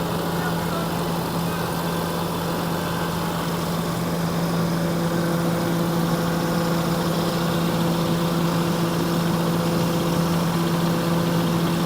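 John Deere 7930 tractor engine with a clogged fuel pump, idling steadily with a constant low hum and a mechanical drone, close and continuous throughout.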